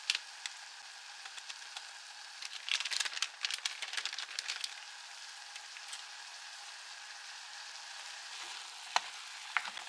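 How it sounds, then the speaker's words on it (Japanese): Green peppers and seafood sizzle and crackle steadily while being stir-fried in a pot, with intermittent clacks and scrapes of stirring, most of it in the first half, and a couple of louder knocks near the end. "ピーマンとシーフードも加えて炒めます。"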